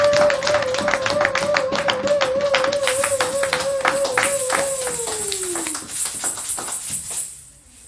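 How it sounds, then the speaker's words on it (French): A church congregation claps in a fast, steady rhythm while a sustained voice or instrument tone holds underneath and then slides downward, with brighter cheering noise joining partway through before the sound fades out. "Acclamons pour le roi des rois."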